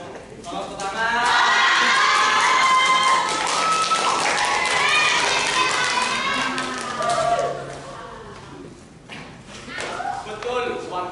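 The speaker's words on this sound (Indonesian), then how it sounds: "Tolong tepuk tangan." Audience applause and cheering at a school theatre performance, a swelling burst of clapping and shouting voices that peaks loudly, then fades into scattered claps and chatter.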